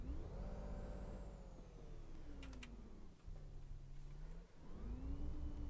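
A Volvo Olympian Northern Counties bus in the video game OMSI 2 drives with its turbocharged engine droning and whining, the pitch rising and falling through gear changes, alongside soft clicking keyboard taps.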